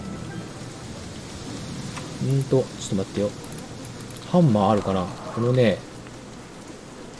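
Steady rain from the video game Don't Starve: Shipwrecked hisses as a soft, even backdrop the whole way through. Someone talks in short bursts over it.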